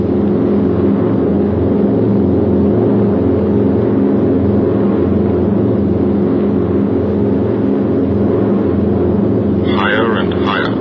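Four piston engines of a B-17 Flying Fortress bomber drone steadily in high-altitude flight, a loud, unbroken low roar that holds constant throughout.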